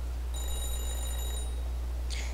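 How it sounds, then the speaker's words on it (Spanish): A telephone rings in a phone booth in the video game Psych. A bright electronic trill lasts just over a second, then a short second burst follows, over a steady low hum. "Is the ringing coming from the phone booth?"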